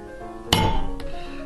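A single sharp metallic strike of a hammer on a stamping tool set into a leather belt, followed by a fainter second tap and a short ringing decay.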